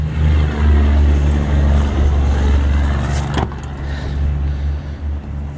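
A Dodge 360 V8 with a Bombcycle cam and 750 carburetor runs in an old farm truck sitting in a field, its loud steady idle rumbling close by with a lumpy, uneven pulse and one sharp transient midway.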